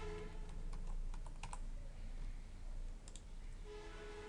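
Someone types a password on a computer keyboard, giving a short burst of quick, faint key clicks and then a brief pause. The clicks are close and sound alone over a quiet room hum.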